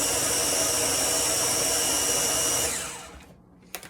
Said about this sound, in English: now I'm going to blend this until it gets good and smooth